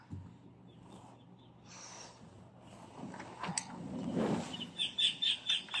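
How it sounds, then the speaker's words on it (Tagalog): Birds outside a room chirp in short, bright bursts that repeat in a quick rhythm toward the end, over faint breathing and handling noise close by. "Mga birds."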